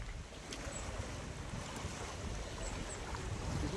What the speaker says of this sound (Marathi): लाटा खवळल्यात.